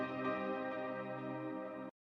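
A plain piano sample from a progressive house breakdown, sustained chord tones ringing steadily and evenly for about two seconds, then cutting off abruptly, with no voices.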